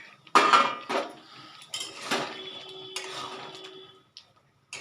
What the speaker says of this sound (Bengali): পনিরগুলো আমি এবার দিয়ে নাড়াচাড়া করে মিশিয়ে দিলাম